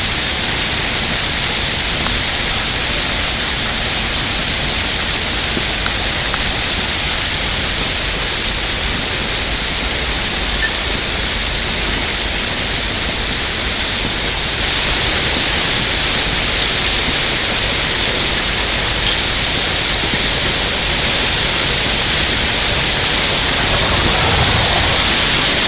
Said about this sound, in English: That white stuff down there is a hailstorm.